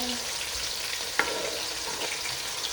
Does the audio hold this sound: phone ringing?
no